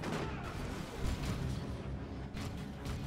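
Dense, loud booms and bursts of gunfire roll continuously in a Dawn of War 2: Retribution battle, including a grenade blast, with no pauses between the heavy impacts.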